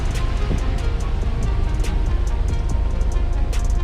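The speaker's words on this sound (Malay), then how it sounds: "Ombak sangat kuat dan angin pun kuat." Strong sea waves and gusting wind batter a seaside campsite at PD Wellness, Port Dickson, as a steady, loud, unbroken roar with faint scattered clicks on top.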